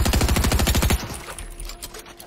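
Rapid full-auto submachine gun fire in Fortnite, a loud, evenly spaced burst of about a dozen shots that stops abruptly, followed by quieter game ambience.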